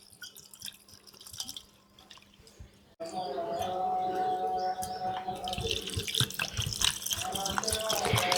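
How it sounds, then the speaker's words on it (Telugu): Water is poured over washed tamarind in a kitchen to soak it for an Andhra-style fish curry, a steady splashing and trickling that swells after a quieter start, with a voice speaking over it. "ఇప్పుడు కొంచెం చింతపండు కడుక్కొని శుభ్రంగా ఇది నానబెట్టుకుందామండి నీళ్ళు పోసేసి నానబెట్టుకుందాం"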